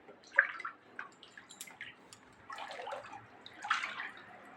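Floodwater stands inside a house, giving scattered splashes, drips and sloshing that come close and fairly faint in a quiet room.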